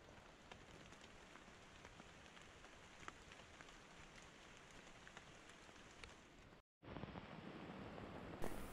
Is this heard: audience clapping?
no